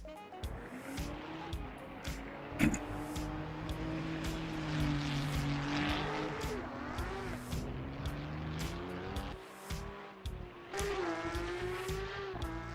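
A race car in Assetto Corsa EVO sits on the starting grid, its engine burbling and blipping with wavering pitch through the whole stretch, while someone talks over it now and then.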